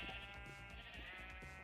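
Minecraft sheep bleating in repeated wavering calls, fairly close and clear, over a steady in-game background with no talking.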